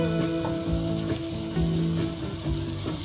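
Spices tipped into a hot pan for a Konkani-style oyster dish sizzle loudly and steadily, with a dense crackling fry and faint stirring scrapes, close and with no voices.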